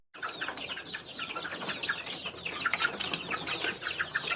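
Big chickens let loose onto a rooftop at dark early morning, with dense, continuous clucking and squawking along with wing flaps, close and fairly loud, with no talk over it.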